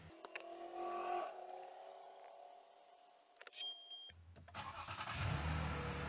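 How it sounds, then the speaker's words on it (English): A Toyota car engine cranks and starts partway through, shifting into a steady low idle rumble after earlier beeps and faint background noise; close and moderately loud, with no talking. "And start the car."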